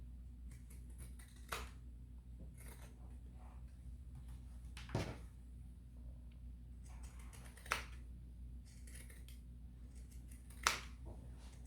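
Fabric scissors make sparse, sharp snips while notching around a sewn zipper seam on a cloth pouch, isolated clicks spaced a few seconds apart over a low steady hum.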